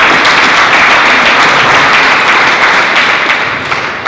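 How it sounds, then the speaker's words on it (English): An audience at the 2018 Clean Energy Expo gives a congressman loud, continuous applause. Dense hand clapping holds steady for several seconds and fades slightly at the end. "How about a round of applause for the great Paul Tonko?"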